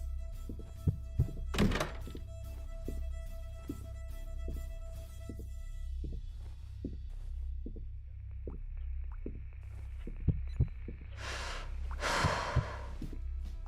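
Heartbeat thumps sound near a ghost in the co-op ghost-hunting game, low dull beats recurring roughly every second under a steady low drone, with a couple of louder breathy bursts.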